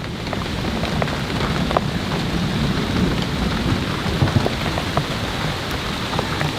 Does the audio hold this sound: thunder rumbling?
yes